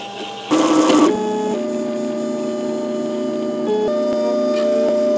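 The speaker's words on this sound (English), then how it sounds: "First print on the Portabee printer." A Portabee 3D printer lays down a raft, its stepper motors whining in shifting steady tones with brief pitch changes between moves, plus a short louder burst near the start.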